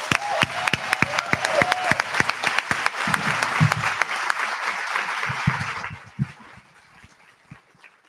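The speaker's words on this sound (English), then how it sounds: "Let's give them both a round of applause." A large audience at a live talk event bursts into loud, sustained applause that fills the room, then thins out and fades after about six seconds.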